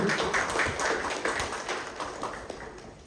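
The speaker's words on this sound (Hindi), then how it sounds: "जोरदार तालियों से स्वागत अभिनंदन" Audience at a farewell and felicitation ceremony at a cluster school centre giving warm applause, a dense continuous clapping that gradually thins toward the end.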